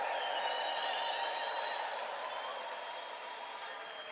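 A church congregation applauds, a dense, steady wash of clapping heard from within the crowd that holds at an even level throughout.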